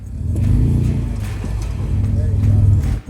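A Jeep engine revs on an off-road trail, a loud near rumble that swells, eases and swells again before cutting off, with a voice talking over it.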